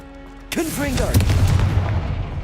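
A Confringo blasting spell goes off in Hogwarts Legacy, with an abrupt booming burst and a fiery rumble that rolls on and stays loud to the end, after a short spoken incantation.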